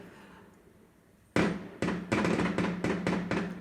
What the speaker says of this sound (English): Okay, there's fireworks going on outside